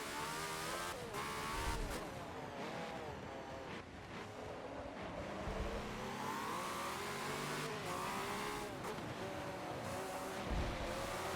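A 1976 Ferrari F1 car racing at Long Beach in Forza has its engine rising and falling, revving and accelerating up and down steadily throughout, with some tire noise and no talk.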